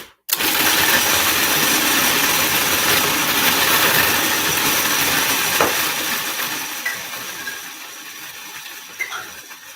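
Blender pureeing figs, pumpkin and oats for a breakfast cookie, a loud steady motor whir running almost the whole time before easing down toward the end.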